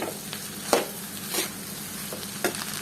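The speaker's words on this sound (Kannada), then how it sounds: "ಇದು ಸ್ವಲ್ಪ ರೈಸು ಕೂಡ ಎಣ್ಣೆನಲ್ಲಿ ಫ್ರೈ ಆಗಬೇಕು ಆ ರೀತಿ ಹುರ್ಕೊಳ್ಳಿ" Leftover cooked rice being fried in oil in a pan, a soft steady sizzle with a few scraping stir strokes, close and fairly quiet, no voices.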